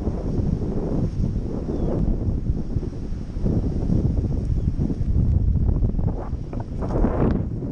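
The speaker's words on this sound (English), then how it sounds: "it's a nice warm breeze still happening here" A warm breeze lingers after a passing storm, heard as steady rumbling wind buffeting the microphone in gusts with no voices.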